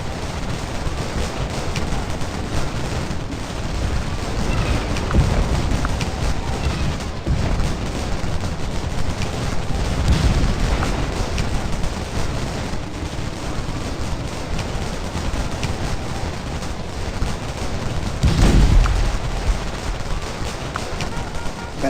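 Musket volleys and gunfire crackle continuously through a Civil War battle at Gettysburg in a video game, dense and steady across the whole stretch with a few heavier bursts, no talk over it.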